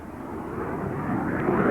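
An airplane engine at an airshow drones steadily through an aerobatic hesitation roll, a broad, continuous roar that swells slightly louder toward the end, with no talk.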